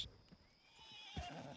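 Horse in the Red Dead Redemption 2 video game giving a drawn-out whinny with a snort and a few hoof thuds, fairly close and quiet, with no talk over it.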